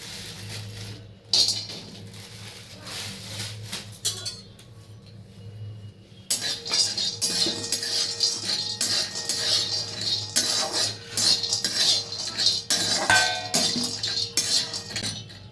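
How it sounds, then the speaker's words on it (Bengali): Cashew nuts being dry-roasted and stirred in a hot kadai, giving repeated scraping clinks and light rattles of nuts against metal that turn denser and louder after a quieter start, with no talk. "কড়াইটা গরম হয়ে গেছে কাজু বাদামগুলো ভেজে নিচ্ছে"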